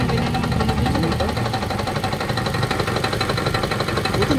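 A car engine with a bad connecting rod idles nearby, its rough running marked by a steady, rapid rhythmic knocking that repeats throughout, loud and unaccompanied by speech.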